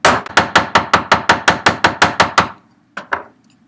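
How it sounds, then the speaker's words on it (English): A chasing hammer flattens annealed wire on a steel block in a series of about twelve sharp, evenly spaced metallic strikes, close and loud, followed by a short pause and two final lighter taps. "Hammer it flat."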